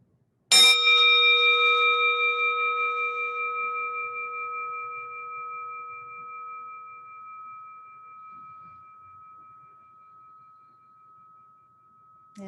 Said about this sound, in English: letting the sound of this chime just carry you over that threshold into a